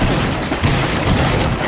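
Close, loud gunfire from a Rainbow Six Siege match crackles through a short, dense flurry of overlapping shots lasting under two seconds, with no voices on top.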